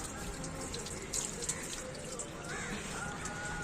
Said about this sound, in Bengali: তো ফটাফট এবার গাছে জলগুলো দিয়ে দিই।